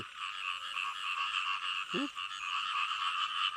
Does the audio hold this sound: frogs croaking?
yes